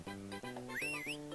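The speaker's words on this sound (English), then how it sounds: "I hear the sound of whistling." A short, rising and falling whistle plays in the Banjo-Kazooie: Grunty's Revenge video game, sliding up and down briefly over steady, pulsing game music.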